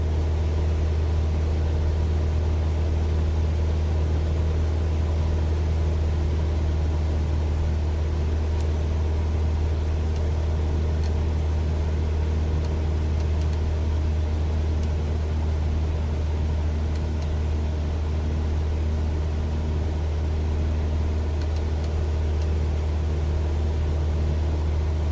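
Aircraft engine at cruise power, about 2,300 RPM, in a flight simulator: a steady low droning hum with a constant hiss, continuous and unchanging for the whole stretch, without any talk.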